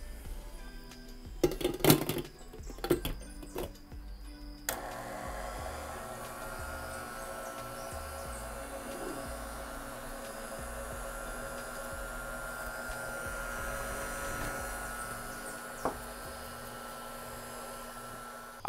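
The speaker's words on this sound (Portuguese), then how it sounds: "Levar aqui para a batedeira, começar numa velocidade um pouquinho mais baixa até tudo se incorporar" A stand mixer kneads bread dough for a Kougelhopf, a raisin and rum bread, giving a steady, continuous motor whir at moderate volume after a few brief knocks and clatters at the start.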